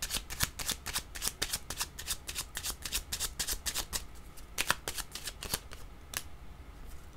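Tarot cards are shuffled by hand before a card is drawn, giving quick, close papery flicks in a steady run that thins out toward the end, with no voice.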